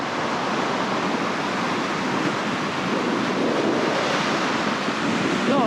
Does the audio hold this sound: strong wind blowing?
yes